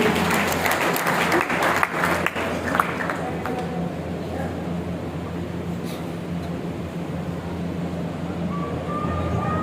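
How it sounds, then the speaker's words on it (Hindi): Applause for honoured guests at a community talent award ceremony, a strong wash of clapping at the start that thins and fades over several seconds into a low hall murmur. "एक बार इन विभूतियों के लिए जोरदार तालियां।"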